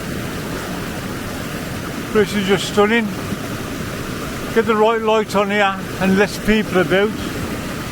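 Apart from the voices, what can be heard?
waterfall rushing water at Ullswater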